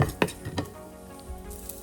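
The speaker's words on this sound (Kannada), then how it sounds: "ಒಂದು ಬಾಣಲೆಯಲ್ಲಿ ತುಪ್ಪ ಸ್ವಲ್ಪ ಎಷ್ಟು ಬೇಕೋ ಅಷ್ಟು ಹಾಕ್ಕೊಳ್ಳಿ. ನಾನು ಸ್ವಲ್ಪ ಯೂಸ್ ಮಾಡಿದ್ದೀನಿ. ಸ್ವಲ್ಪ ಮೆಂತ್ಯದ ಕಾಳು ಇದು ಹಾಕಿ ಚೆನ್ನಾಗಿ ಹುರ್ಕೊಂಡ್ಮೇಲೆ" Fenugreek seeds frying in ghee crackle lightly in a pan, with a few quick stirring scrapes at the start before the soft sizzle settles.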